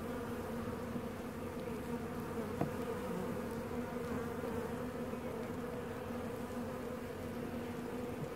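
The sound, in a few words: honeybees buzzing on a hive frame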